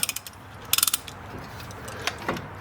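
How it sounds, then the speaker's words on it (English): A Lang brake caliper piston compressor is ratcheted tight on the front brakes of a Ford Fusion or Lincoln MKZ Hybrid, giving a quick run of close, sharp ratchet clicks followed by a few scattered clicks. "which is why we use my favorite tool, the Lang piston compressor"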